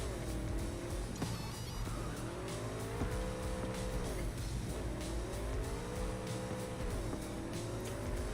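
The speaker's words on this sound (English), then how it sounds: "Not doing well on my motorcycle." A motorcycle in Cyberpunk's Night City revs and surges through rising and falling engine sweeps, with tire noise and steady road roar, loud and close with no talking.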